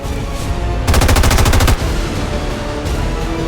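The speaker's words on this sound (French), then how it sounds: "Je tire mes dernières munitions." Rapid automatic gunfire in the video game XCOM 2, a loud burst of evenly spaced shots lasting under a second amid continuous game background noise, with no speech.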